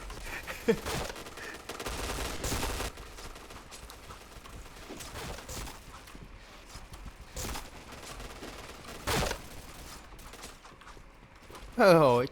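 Gunfire in a shooting video game: scattered bursts of automatic shots ring out at irregular intervals over a low background, while a person talks intermittently.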